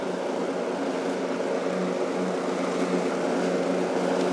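A lawn mower cutting tall, rain-soaked grass on a cool, breezy day, a loud steady engine drone holding constant throughout with no voices.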